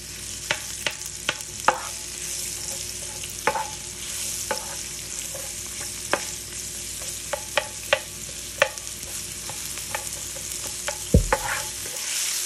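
Onion sautéing with turmeric in an open pan, a steady sizzle and frying hiss broken by repeated sharp clicks and scrapes of a utensil stirring against the pan, close and moderately loud with no talking.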